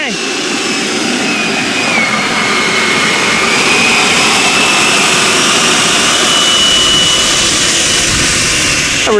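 An HSD Jets T-33 model jet with a 120mm electric ducted fan takes off, giving a loud, steady high-pitched whine and rushing roar that stays strong and close throughout, with a slight rising and falling pitch sweep.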